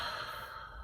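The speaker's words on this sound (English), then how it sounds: "Take a deep breath." A single deep breath drawn in, short and airy, heard close up with no talking.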